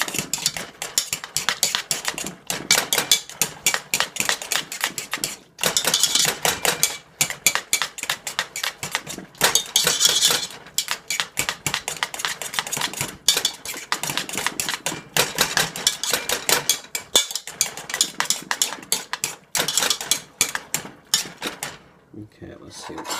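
Butter being mixed into cooked Trinidad squash, a fast continuous clatter of a utensil scraping and knocking against a pot, loud and close, with brief pauses before falling quiet at the end.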